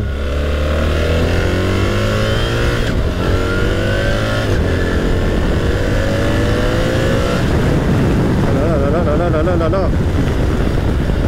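A BMW R1300 GS motorcycle engine accelerates loud and close through rising gear pulls on a desert road at Los Monegros, shifting up with a sustained throaty roar and wind rush.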